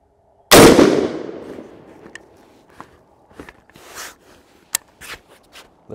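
One loud, sharp report from a Bear Creek Arsenal .458 SOCOM rifle at an outdoor range, with a decaying echo, followed by light metallic clicks and handling sounds.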